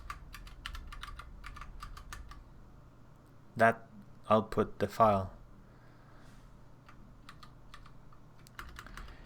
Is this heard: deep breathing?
no